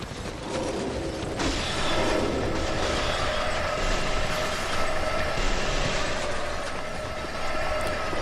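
An elevator moving in Dark Souls 2, a loud continuous mechanical rumble with grinding and creaking that swells after a brief start and holds steady throughout.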